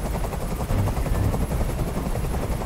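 A helicopter hovers close by in the video game Detroit: Become Human, its rotor producing a steady, loud chopping rumble throughout.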